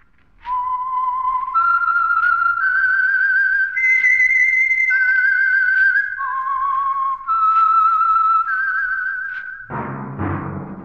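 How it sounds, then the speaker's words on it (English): A melodic theme whistled alone for a mystery radio drama, a clear tune of sustained notes stepping up and down in pitch, followed at the end by a brief burst of orchestral music. "That whistle is your signal for the Signal Oil Program, the Whistler."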